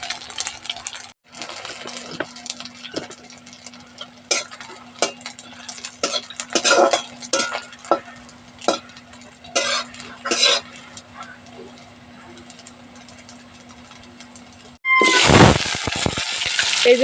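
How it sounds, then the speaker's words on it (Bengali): Homemade flour-based soybean chunks frying in a pan and flipped side to side; close metal clinks and scrapes sound over a low hum, then a sudden loud burst of sizzling near the end. "তো এবার এপিট ওপিট করে লাল লাল করে ভেজে নেব।"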